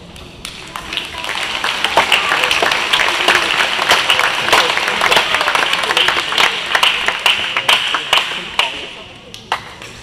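Audience clapping fills a school all-school convocation, a steady mass of hand claps with sharp individual claps standing out, tapering off toward the end.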